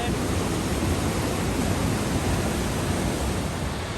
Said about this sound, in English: Here is a beautiful waterfall.